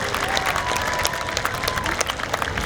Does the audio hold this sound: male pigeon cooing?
no